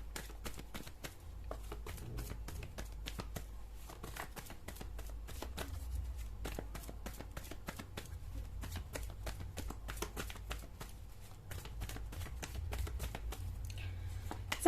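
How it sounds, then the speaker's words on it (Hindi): Tarot cards are shuffled by hand, producing a steady, soft stream of rapid papery riffles and clicks, close and quiet, with no talking. "फिलहाल अगर मैं कार्ड शफल कर रही हूँ अभी"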